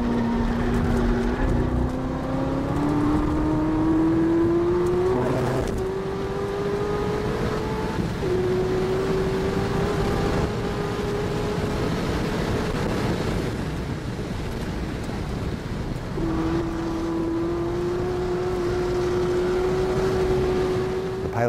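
A 2012 Corvette ZR1 laps the Nürburgring, its engine note climbing steadily through each gear, then dropping at the shifts before rising again, heard from a distance with some wind noise.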